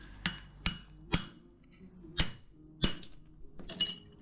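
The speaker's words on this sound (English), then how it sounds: "Get hammer and chisel it now, it's a small piece." Sharp metallic hammer-on-chisel strikes break rock to free a fossilised fish, about seven distinct clinking hits at an uneven pace, close and loud with quiet gaps between.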